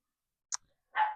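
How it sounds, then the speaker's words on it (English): A small dog gives a single short bark in the background, preceded by a faint click, in an otherwise quiet room. "If you hear any dog barking in the background,"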